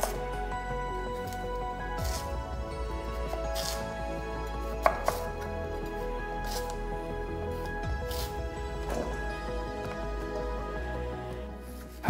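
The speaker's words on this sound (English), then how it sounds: "One sweet potato, roughly chopped." A knife roughly chops a sweet potato on a cutting board, with a long run of close, fairly regular chopping knocks and a couple of sharper hits midway, under soft background noise.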